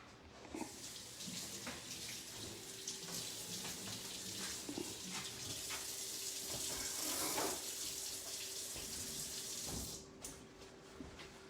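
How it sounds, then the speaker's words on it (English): Hands are rinsed under a running kitchen tap while eggplant and chicken Parmesan are being prepared; a steady, close stream of water splashes continuously for about ten seconds, then stops abruptly. "Just wash my hand a little."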